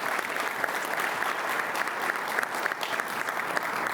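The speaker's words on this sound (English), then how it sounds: "Let's start with a round of applause." Steady, dense applause from an audience at a Hampton University football press conference introducing Van Malone as head coach, sustained and evenly loud through the whole stretch with no talk over it.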